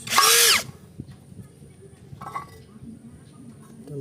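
Short loud burst from an APR AP34+ 13mm cordless impact drill, whining for about half a second near the start, followed by faint clinks and handling noise.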